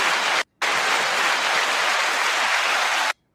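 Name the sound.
applause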